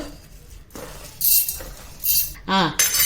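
Horse gram being tipped into a pan while making uluva pachadi: a few bright bursts of rattling, clinking grains and utensil knocks, interspersed with a voice speaking.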